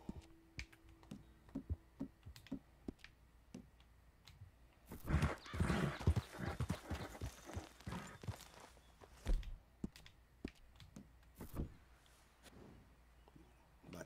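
Horse hooves clop along in the video game Red Dead Redemption 2, with sparse faint steps at first, then a denser, louder run of hoofbeats in the middle before thinning out again.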